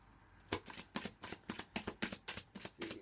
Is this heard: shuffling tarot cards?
yes